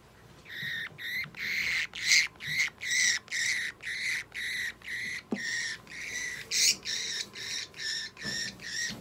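A six-month-old budgerigar squawks at a veterinary clinic: a rapid series of about sixteen sharp, harsh calls in a steady rhythm, close and fairly loud.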